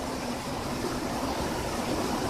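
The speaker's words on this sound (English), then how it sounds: "It's pretty windy out. It's raining real hard." Hurricane wind and heavy rain outdoors during a hurricane in the country, a steady, loud broadband roar of rain and gusting wind with no breaks and no talk.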